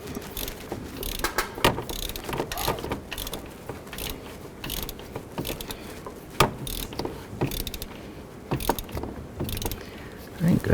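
A ratchet snugs down the alternator mounting bolts on a 2004-2009 Dodge Durango, giving quick uneven clicking bursts, close and fairly quiet against workshop background noise.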